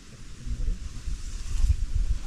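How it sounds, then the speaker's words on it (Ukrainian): Low, blustery autumn wind buffeting the microphone while perch fishing, rumbling in gusts outdoors with no voices. "вітер"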